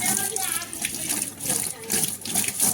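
Water runs steadily from a tap during washing in a home kitchen, a continuous splashing gush with a bright hiss that swells and eases, mixed with faint clatter.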